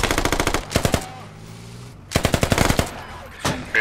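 Automatic gunfire in the video game Squad comes in loud, rapid bursts, one at the start and another after a short lull, each a tight string of close shots.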